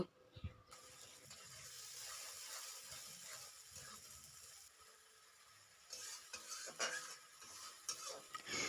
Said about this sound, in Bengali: এই পেঁয়াজ বাটাটাকে দিয়েও আমি কিছুক্ষণ কষিয়ে নেব।